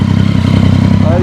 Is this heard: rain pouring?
no